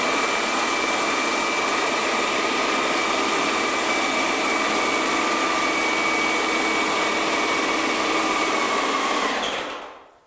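A low-pressure airless paint sprayer pump runs while flushing water out of the gun line, a loud, steady mechanical whine and hum that holds for about ten seconds, then cuts off abruptly.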